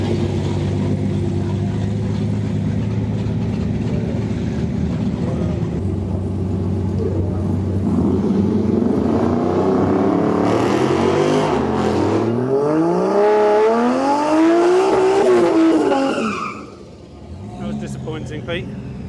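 Race cars at a street drag racing weekend, engines droning and revving loud and close, with rising and falling pitch sweeps as one accelerates. Speech can be heard under the engine noise throughout.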